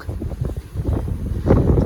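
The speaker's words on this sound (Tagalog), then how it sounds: "Grabe ang hangin dito." Strong beach wind in winter buffets and rumbles loudly across the microphone in gusts, with low, rough roaring and no clear voices.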